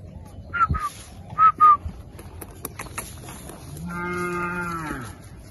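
A young Girolando calf lets out a drawn-out moo near the end, preceded by a few short whistles and scattered knocks nearby on a cattle ranch in El Salvador.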